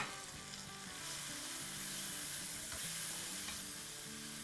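Tomato masala with cumin, black pepper and garam masala frying in a pan, a soft, continuous sizzle with faint stirring scrapes, fairly quiet and without speech.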